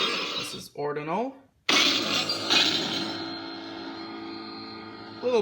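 Ordinal lightsaber sound font on a Prizm 5.1 board, with a rising ignition whoosh, a short drop, then a loud steady electronic hum that holds evenly with only slight swells toward the end.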